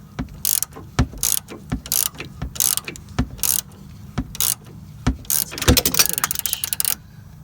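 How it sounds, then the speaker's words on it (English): Ratchet wrench clicking as it tightens a strut nut against the steering knuckle of a 2007 Chrysler Town & Country: rapid, close, crisp ratcheting clicks in uneven bursts over a low background hum, with no talk. "Wedging the ratchet up against the knuckle."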